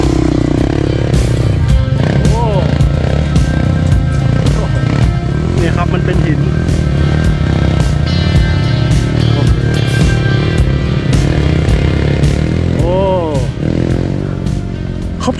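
Dirt bike motorcycles climb a steep trail near Kanchanaburi, engines droning and revving continuously up close with clattering, while a rider talks over them throughout.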